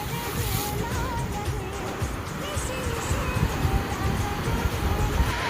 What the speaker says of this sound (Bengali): ওই যে ঢেউটা আসতেছে